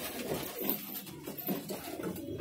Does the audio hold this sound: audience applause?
no